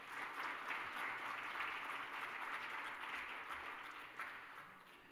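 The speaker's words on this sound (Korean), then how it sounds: "우리 박수로 환영하겠습니다" A church congregation at a Sunday worship service claps in welcome, a dense, sustained round of applause filling the sanctuary before tapering off near the end.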